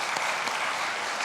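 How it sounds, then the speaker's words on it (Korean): A church congregation at a retreat claps in thanks after a pastor's sermon, a brief, even wash of many hands heard from a distance with no voices. "우리 감사하고 박수 한번 하겠습니다"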